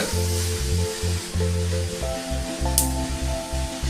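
Fennel seeds sizzling in cold-pressed groundnut oil, a steady frying hiss with crackle heard under a repeating tonal music pattern.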